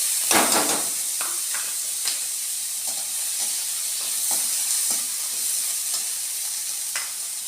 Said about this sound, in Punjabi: ਉਹਨਾਂ ਨੂੰ ਪਹਿਲਾਂ ਫਰਾਈ ਫਰਾਈ ਕਰ ਲੈਣਾ ਹੈ